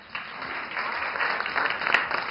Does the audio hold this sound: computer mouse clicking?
no